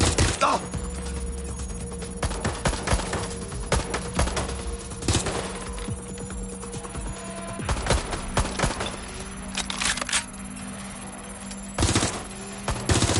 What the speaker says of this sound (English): Taking fire! Shooting at us!